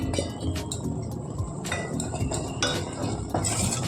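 Chopped cluster beans tossed into a pan with masala, with metal spoon clinks and scraping against the pan and a rustling sizzle, close and busy throughout.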